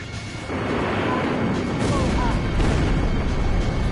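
Explosions rumble and crash in the Ace Combat 5 video game, a loud, continuous barrage of booms and impacts rising after the first half-second, with voices talking over the din.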